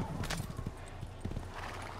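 Horse hooves clip-clop in a steady, close rhythm with a brief neigh in the Assassin's Creed video game, carrying on for a couple of seconds without any speech.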